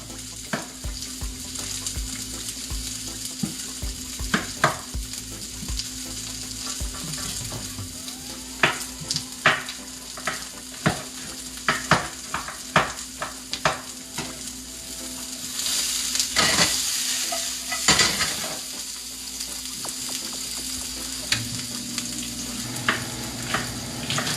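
Pak choy with scotch bonnet pepper is stir-fried in a hot pan, producing a loud continuous sizzle broken by repeated sharp clacks and scrapes of a utensil, with a surge of hissing partway through and no talking.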